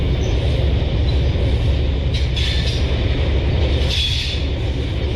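A train locomotive rumbles steadily through a railway tunnel, a dense continuous roar with faint high squeals near the middle, loud and close throughout.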